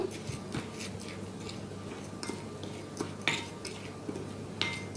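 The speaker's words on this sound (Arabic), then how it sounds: "وهبدأ اقلب المكونين كويس جدا مع بعضهم" A spoon stirs a granulated sugar mixture in a bowl, giving faint, irregular clinks and scrapes against the bowl.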